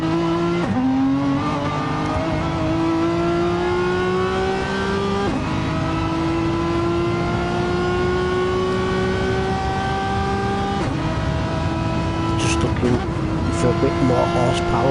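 Race car engine from a PS4 racing game holds a sustained, loud rising whine with gear-change drops around five and eleven seconds, under continuous commentary speech.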